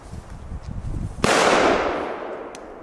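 Normal version of a Megatresk firecracker, a single loud sharp bang after a brief crackling fuse, followed by a long echoing rumble that slowly fades outdoors.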